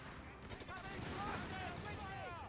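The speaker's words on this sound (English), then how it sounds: "The tank gun is shooting." A tank gun fires in a World War II strategy game, with a series of booming shots and rattling gunfire set against a faint distant battle din.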